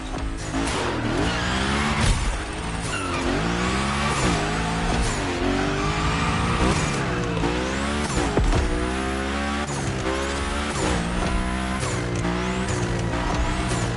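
Car in the video game The Crew Motorfest sliding sideways, tires squealing in long wavering sweeps over a steady, loud engine drone that swells and dips throughout.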